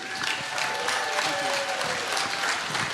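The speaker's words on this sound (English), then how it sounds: "Let's continue to give him a round of applause." Crowd at a General Flynn special event applauds, a loud, dense sustained clapping from many hands with a faint voice and whistle-like tones underneath.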